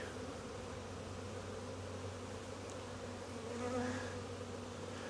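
Honeybees hum in a busy open hive during a Demaree split, a dense, steady buzzing drone that swells slightly near the end, with no voices.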